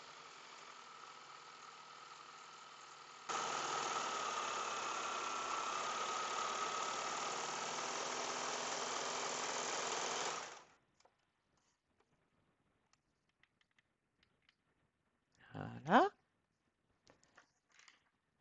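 A Baby Lock serger stitches a narrow braid from basic thread, running steadily and close for several seconds, stepping up louder partway, then stopping abruptly; silence follows with a brief sharp sound near the end.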